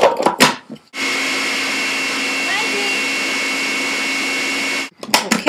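A blender whirs steadily for about four seconds while mixing chocolate mousse ingredients with vanilla extract, loud and constant, starting and stopping abruptly, with brief voices just before and after.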